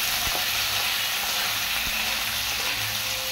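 Ingredients for a light fish curry hit hot oil in a pan, producing a steady, loud hiss of frying with a few faint knocks of a spoon, with no voices.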